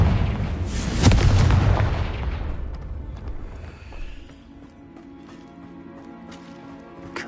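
A Confringo fire spell explodes in the video game Hogwarts Legacy with a heavy, close boom that rumbles and slowly fades over several seconds, leaving a quiet tonal hum with scattered small clicks.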